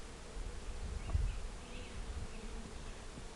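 Honeybees buzz around an open beehive box where pollen cakes are being set out, a steady close droning swarm sound with no talk.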